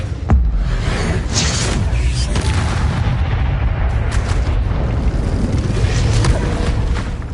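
Bombarda and Confringo spell explosions in a video game form a continuous barrage of booming blasts and whooshes, loud and dense with deep rumble throughout, one sharp crack near the start and no pauses.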